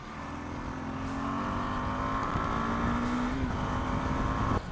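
A KTM 390 Adventure single-cylinder motorcycle engine under engine braking through a downshift, giving a steady, loud, close buzzing drone that holds throughout with slight shifts in pitch.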